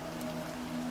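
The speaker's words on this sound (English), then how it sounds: "The sound of raindrops gently falling on the leaves created a soothing rhythm" Rain falls steadily in a soft, even patter on leaves, with a faint constant hum running beneath it and no talk.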